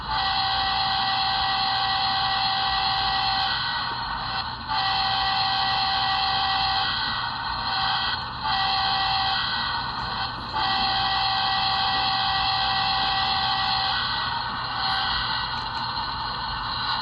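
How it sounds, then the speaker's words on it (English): Horn of a Kansas City Southern 4859 HO scale model locomotive sounding steadily for a long stretch, with brief breaks between blasts, a tinny electronic tone over a constant hum. "Alright, here's the horn."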